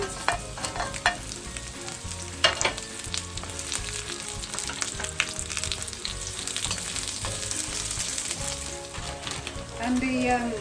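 Garlic and onion stir-frying in hot oil for seafood egg noodles, a loud, crackling sizzle with repeated scraping stirs and utensil clanks against the pan, no voices.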